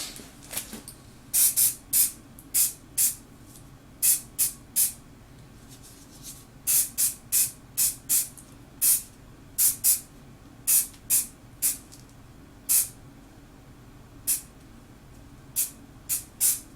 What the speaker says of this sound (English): going to use a satin black car spray to paint this.